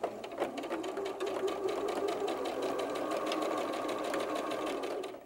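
Sewing machine stitching a quarter-inch seam around fabric for an 18-inch doll's diaper: a close, rapid mechanical whirr with fast regular needle clicks, running steadily throughout with no talking.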